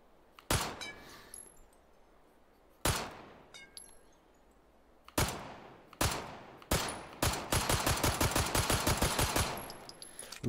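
Shots from a 9mm pistol at a shooting range: a few single sharp cracks spaced seconds apart, then a fast run of about a dozen close, loud shots near the end, each with a short ringing tail.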